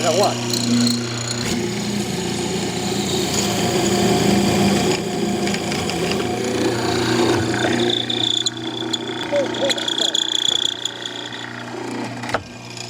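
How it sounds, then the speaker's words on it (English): A power drill grinds and whirs into wood, cutting a square hole, its pitch shifting as the bit works, with someone talking over the noise. "Drill a square hole."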